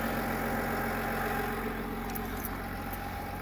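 A 2020 Chevrolet Silverado 1500 with the 3.0-litre Duramax diesel idles quietly and steadily, a low, even hum with faint ticking and no voices.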